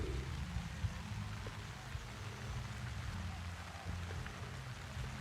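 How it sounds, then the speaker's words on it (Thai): Steady rain falling at a fish pond construction site, a continuous hiss of drops with low rumbling noise beneath, constant and fairly close throughout. "อันนี้ฝนก็ตกนะครับ"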